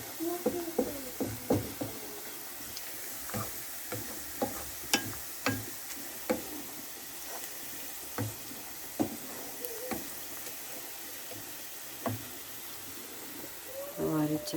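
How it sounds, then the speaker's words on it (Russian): Onions fry in a pan for vareniki with a quiet, steady sizzle, broken by scattered light knocks and scrapes of stirring. "Так, тут у меня жарится лук на вареники."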